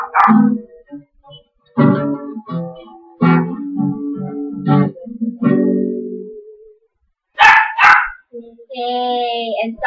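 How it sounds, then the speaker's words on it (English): A pet dog barks loudly in a few sharp bursts close by, set among stretches of someone singing a cover of a pop song indoors. "sorry about my dog barking so loud"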